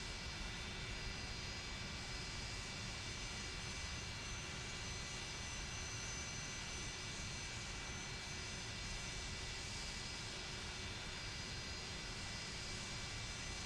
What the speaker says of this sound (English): I'll shut the engines off here